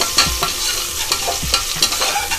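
Sliced onion and fennel seeds fry in hot oil for a South Indian chicken curry, a loud, close, steady sizzle broken by rhythmic scraping stirs of a spatula in the pan.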